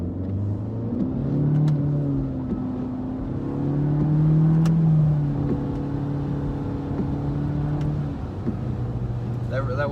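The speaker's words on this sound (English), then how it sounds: "I'm going to go and do an acceleration, not like 0 to 60 or anything." A 2018 Honda Civic Hatchback in sport mode pulls away in first gear, its engine note rising and falling steadily and fairly close, with road and cabin noise underneath throughout.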